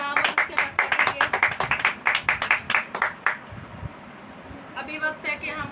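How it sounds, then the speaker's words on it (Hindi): A congregation at a Saturday prayer meeting claps in a quick, rhythmic run of sharp claps that stops partway through, after which faint talk and softer sounds follow. "दो तालियां यीशु के कलाम और उसके वास्ते करिए।"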